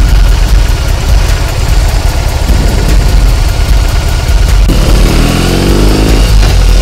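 A BMW R 18 motorcycle engine runs loud and steady throughout, with a deep low rumble that shifts into a rising rev near the end.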